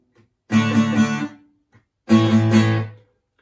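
The opening part of a riff on guitar, two loud chord bursts about a second long each, separated by a short pause, with no talking.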